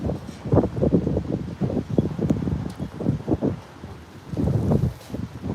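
Gusty typhoon wind sweeps across a Taiwanese rooftop, producing repeated bursts of broadband rushing and buffeting at moderate loudness, alone without speech.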